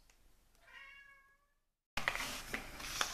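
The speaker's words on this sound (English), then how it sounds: "If you hear the odd meow, it's one of my cats wanting attention." A house cat meows for attention indoors, a series of clear, drawn-out harmonic meows near the start, followed by a brief silence and then a burst of loud broadband noise.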